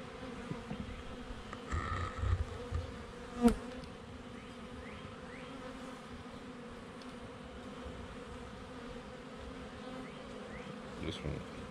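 A honey bee swarm hums steadily in and around a hive filling fresh wax with nectar, a continuous buzzing drone with a few nearer passes and a brief sharp knock partway through, with no voices.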